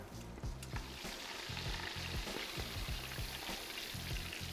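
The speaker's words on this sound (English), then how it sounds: "Gently place it in, hear the sizzle" Squid pieces sizzle in hot frying oil, a steady, crackling hiss with faint pops continuing throughout, heard fairly close and alone with no talking.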